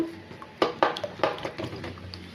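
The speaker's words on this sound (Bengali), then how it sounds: "এবার আমি এটাকে সবগুলোকে মিশিয়ে নেব।" A spoon clinks against a bowl while chopped onion, chili and coriander are mixed, giving several sharp taps and scrapes in an uneven rhythm, close and fairly quiet.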